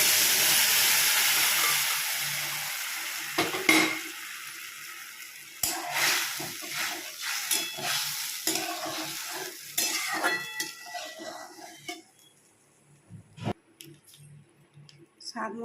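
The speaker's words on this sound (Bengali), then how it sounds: "দেখো আমার তেল গরম হয়ে গেছে, 5 ফোড়ন দিয়ে দিলাম" Panch phoron spices dropped into hot oil, a loud close sizzle at first that fades away, followed by stirring scrapes and clatter with a voice speaking in between.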